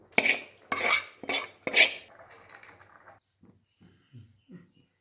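Roasted grated coconut is tipped out of a pan onto a dry plate: four sharp, close metallic scrapes and clatters, followed by faint, sparse clinks.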